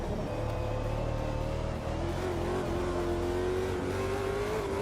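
Race car engine in the sim racing game Automobilista 2 on historical Bathurst, a loud steady drone whose pitch climbs gradually under acceleration, holding continuously with no talk.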